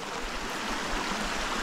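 A river's water rushes and babbles in a continuous, close, fairly loud wash over stones on a forest walk near a village in the Gelendzhik area.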